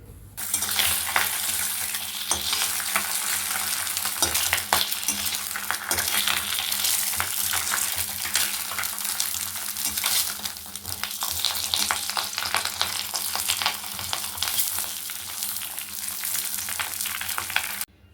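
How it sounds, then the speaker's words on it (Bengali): Fish frying in a pan gives a loud, steady sizzle that runs unbroken throughout, with occasional scraping and stirring sounds near the mic. "তো এখন মাছটা ভেজে নিই।"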